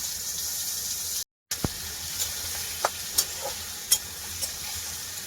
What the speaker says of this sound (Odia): ଚାଲ କଡ଼ା ହେଇଗଲେ ତାପରେ ବର୍ତ୍ତମାନ ପିଆଜ ପଡ଼ିବ